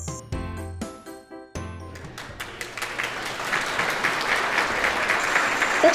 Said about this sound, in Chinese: 我们给他一点掌声